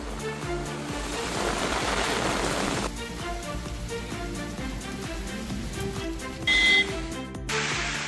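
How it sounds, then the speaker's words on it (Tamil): Heavy rain with strong wind in Periyakulam, Theni district, Tamil Nadu, a dense steady roar of downpour that drops somewhat after a few seconds and briefly swells again near the end, with no voices. "பலத்த காற்றுடன் மழை பெய்தது"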